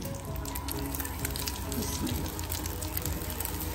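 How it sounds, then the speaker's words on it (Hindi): Egg-coated shami kebabs fry on a hot griddle with a steady, dense sizzle that holds at an even level throughout, close up and with no talking. "बस ये शामी हमारी फ्राई हो जाएगी।"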